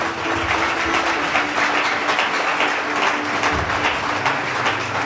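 A church congregation at a Sunday service in Cocody claps and cheers for the Lord, a dense, steady wash of applause throughout with no clear speech.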